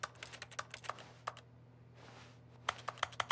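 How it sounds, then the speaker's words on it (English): Rapid bursts of keyboard key presses from The Stanley Parable, a video game where every action makes a button-press sound, clatter in quick clusters with a short pause in the middle, close and crisp over a low steady hum. "Everything makes a key, like a button press sound."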